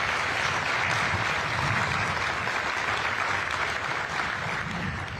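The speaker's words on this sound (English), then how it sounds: "Let's give them a round of applause." An outdoor audience at a public rail opening ceremony applauds a band, a loud, continuous roar of clapping that holds steady throughout.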